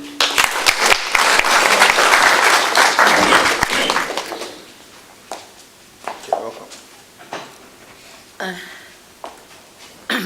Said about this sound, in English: So we could welcome her with a hefty clap.